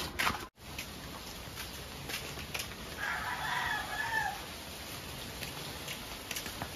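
A rooster crows once in the middle distance, the call rising out of steady outdoor noise with a patter of rain throughout.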